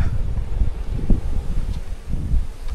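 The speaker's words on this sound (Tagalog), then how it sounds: "Lakas lang ng hangin." Strong wind buffets the microphone on an open view deck overlooking the Pacific, a continuous low rumbling roar with gusty surges and no clear speech.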